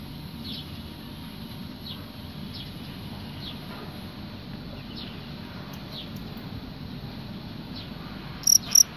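Two male crickets chirp in a quiet setting, with faint, evenly spaced high chirps over a soft low background hum and a couple of brief sharper clicks near the end.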